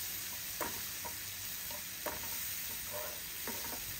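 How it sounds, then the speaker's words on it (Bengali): Onion paste and a large tomato fry in oil for a mustard fish curry, giving a soft, steady sizzle with a few faint stirring scrapes and taps, quiet and close with no voices. "আবারও আমি তেলে ভালোভাবে ভেজে নিচ্ছি।"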